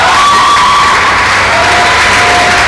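Loud, dense cheering and shouting from spectators at a bowling final, a near, continuous roar of voices and whoops filling the whole moment.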